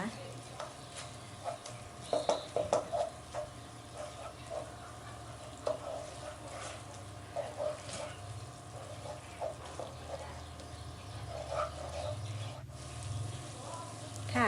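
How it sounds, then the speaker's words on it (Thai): Red curry paste stir-fried with coconut milk in a pan, a steady close sizzle under repeated soft scraping strokes of a spatula that carry on without a break. "ผัดพริกแกงกับกะทิให้เข้ากันดีนะคะ"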